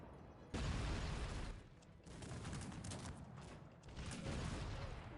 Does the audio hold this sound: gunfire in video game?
yes